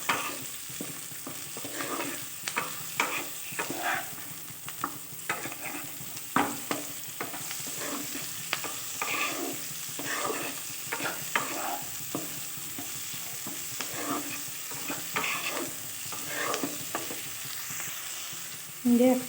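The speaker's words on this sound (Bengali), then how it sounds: "একটু নেড়ে চেড়ে নেব।" Chopped capsicum and mixed vegetables stir-fried in a pan for fried rice, a continuous sizzle broken by frequent sharp spatula scrapes and clatters in an irregular rhythm, no talking.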